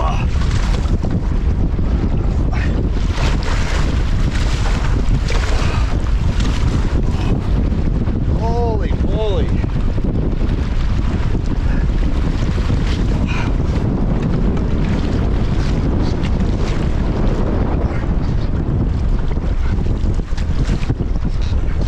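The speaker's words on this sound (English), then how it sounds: "Wow, that's a strong headwind." Strong headwind buffets the microphone on a lake while canoeing, a loud continuous roar of wind noise with water and whitecap wash beneath, a brief faint whistle-like tone midway, no talk.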